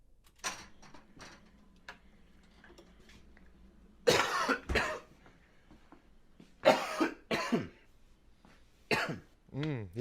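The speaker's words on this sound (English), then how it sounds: "Yes, the coughing." A person coughing indoors, a few sharp isolated coughs and throat-clearing sounds spaced over the clip, with quiet gaps between them and some faint background noise.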